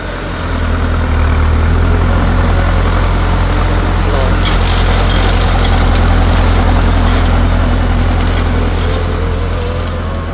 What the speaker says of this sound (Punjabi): ਹੁਣ ਟਰੈਕਟਰ ਬੜੇ ਆਰਾਮ ਨਾਲ ਲੰਘਦਾ ਜਾਂਦਾ